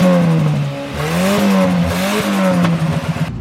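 A drift car fitted with a Ford Ranger engine revs loudly and close, its pitch rising and falling through several throttle blips, then breaking into rough, clattering pulses near the end.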